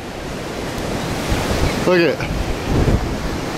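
Strong wind buffets the microphone outdoors on a gusty day in the woods, a broad continuous roar rising in blasts, while someone speaks briefly over it.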